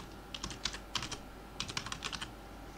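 Quick bursts of typing on a computer keyboard, close and crisp, with short clusters of key clicks separated by brief pauses and no talking.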